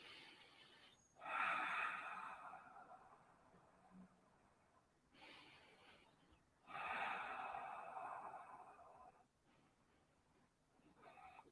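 Deep, slow breaths are drawn in and pushed out during a beginner's yoga twist, with two long breath cycles audible. The breathing is close and soft, in a quiet room.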